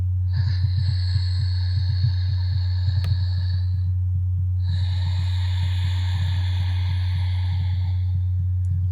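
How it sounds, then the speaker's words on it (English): Two long, hissing ujjayi throat breaths, an inhale and then an exhale, with a soft ocean-like rush over a steady low hum and faint ticking. "I breathe from right here in the cold spot of my throat."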